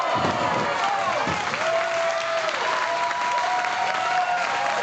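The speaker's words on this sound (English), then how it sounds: "Listen to this raucous crowd." A large crowd at a pro wrestling event cheers and applauds loudly and continuously, a dense roar of clapping and shouts with a voice speaking over it.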